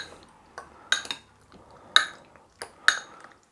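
Egg and sesame oil are stirred into cut squid in a bowl, heard as a handful of sharp utensil clinks against the bowl spaced about a second apart, close and clear in a quiet room.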